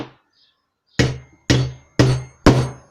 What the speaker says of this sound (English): See, the bigger the hammer, the harder you hit it, the easier it goes in.